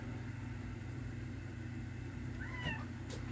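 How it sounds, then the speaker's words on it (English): A playful house cat meows once, a short rising-and-falling call partway through, faint against a steady low motor hum in a kitchen. "my one cat's a fucking crackhead right now, so I'm sure you're gonna hear her acting like a fucking nut."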